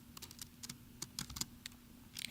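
Typing on a computer keyboard while writing CSS code in a web editor: quiet, irregular bursts of crisp key clicks close to the microphone, with no talking.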